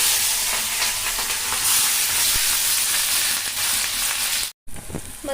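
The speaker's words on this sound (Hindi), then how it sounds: "तेल अच्छा खासा गर्म हो गया है, इसमें हम ये प्याज और आलू मैंने कट किया है" Chopped onion and potato sizzle loudly in hot oil, a steady close crackling hiss that continues throughout, briefly cutting out near the end before resuming.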